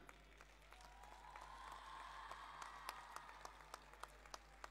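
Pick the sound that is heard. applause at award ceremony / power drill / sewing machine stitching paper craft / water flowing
applause at award ceremony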